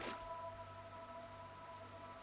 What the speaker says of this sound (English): as the rain became a torrent, Wallace heard a splash.